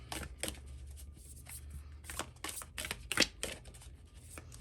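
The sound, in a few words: shuffling tarot cards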